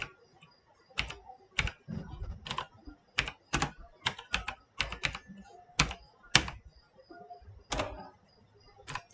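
Typing on a computer keyboard while filling in a database report, a run of close, irregular clicking keystrokes in clusters with brief pauses, heard alone without talk.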